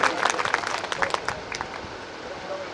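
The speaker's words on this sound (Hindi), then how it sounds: "एक बार मैं चाहता हूं कि तालियों की गड़गड़ाहट बड़ी शानदार होनी चाहिए बीटी साहब के लिए" An audience at a community get-together applauds in a scattered burst of clapping under crowd babble in an open outdoor setting, with the claps thinning out toward the end.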